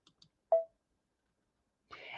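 A single sharp mouse click selecting a shape in embroidery design software, brief and isolated amid near silence, followed by faint soft rustling.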